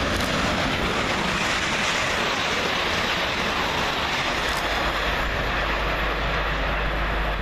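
Two British Rail Class 350 units passing at speed through Watford Junction station, a loud, continuous broadband roar and rush of wheels and air sustained throughout with no break.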